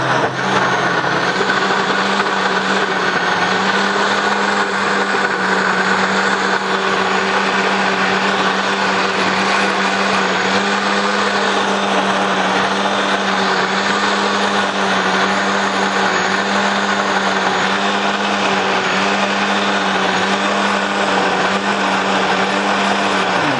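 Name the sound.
blender whizzing Thai pumpkin soup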